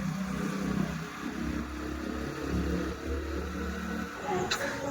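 A motorcycle rides along a main road, its engine a steady low drone mixed with wind rush and passing traffic, moderately loud throughout with no clear speech.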